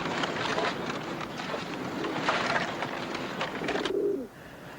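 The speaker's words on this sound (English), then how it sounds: "What about these pigeons?" Pigeons in a coop coo and flutter amid a dense, restless wash of bird noise and rustling that carries steadily before cutting off abruptly near the end.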